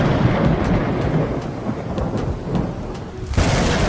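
Thunder rumbles over steady rain on a dark, rain-soaked hillside trail near a Gujarat hill station, a continuous loud wash of rainfall with deep rolling thunder and a brief lull before the downpour swells again.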